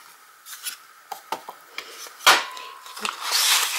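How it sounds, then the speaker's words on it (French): A few light clicks and paper rustles, then a sharp crunching punch through paper, close by, followed by quieter handling. "Je vais prendre ma perforatrice."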